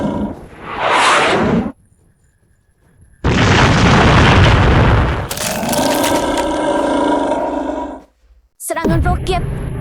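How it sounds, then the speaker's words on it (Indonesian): Rocket attack explosions in a dubbed action drama, with loud roaring blasts and bursts that fill most of the stretch. Sharp bangs and crackling debris come between short gaps, under shouted voices. "Serangan roket."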